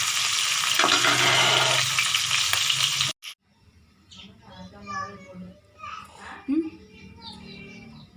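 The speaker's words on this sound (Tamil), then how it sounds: "தக்காளி, வெங்காயம், பூண்டு, கருவேப்பிலை எல்லாம் வணக்கிறோம்." Tomato, onion, garlic and curry leaves sautéing in a pan give a loud, dense sizzle for about three seconds before cutting off abruptly, followed by a person speaking over quiet background.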